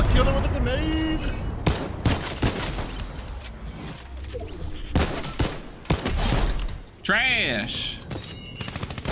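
Rapid bursts of gunfire in a Fortnite duo match, shots fired from a barn window, crackling in quick volleys alongside other game effects while players talk over them.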